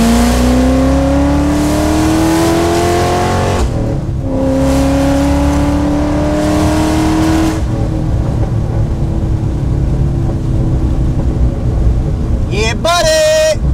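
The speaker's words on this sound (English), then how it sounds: "not as fun as flooring it in this car" A Ford GT with Heffner Performance upgrades accelerates at full throttle through repeated rising gear pulls, loud and close, with a brief high rev burst near the end while people talk over it.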